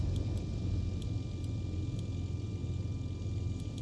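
A Piper PA-28R Arrow III light aircraft engine idling in X-Plane 11, a steady low rumbling drone that holds constant and alone throughout, with faint periodic ticks above it.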